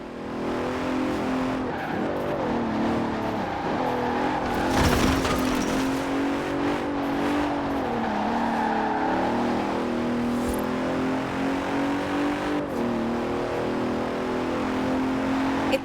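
A 2017 Bentley Continental Supersports, all-wheel drive, races in Forza Horizon 4, its engine roaring steadily throughout with gear-change dips and tire squeal as it skids through corners.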